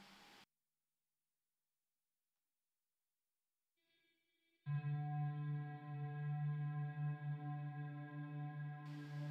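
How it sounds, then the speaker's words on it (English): Infinite reverb from two reverb modules in a feedback loop with delays, swelling in after a silence into a loud sustained droning wash of layered tones that holds steady. "the last one I'm going to demo is an infinite reverb."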